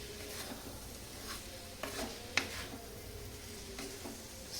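Poha being stirred and mixed in a pan: soft, faint scraping strokes of a spoon at irregular intervals over a low, steady sizzle.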